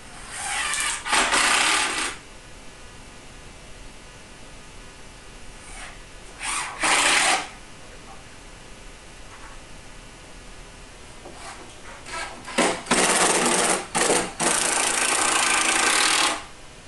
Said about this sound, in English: Secure this back panel with several screws at the bottom panel and at the corner.